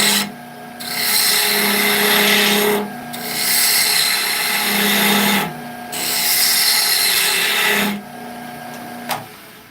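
Wood being cut on a lathe with a bowl gouge, three long abrasive scraping passes with short pauses between, loud and close with a faint tap near the end and no talk.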